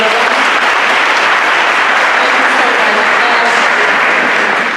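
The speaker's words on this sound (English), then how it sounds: "A big round of applause for you." Loud, dense applause from an audience at a Day of the Seafarer event in Durban, steady and sustained throughout with no break.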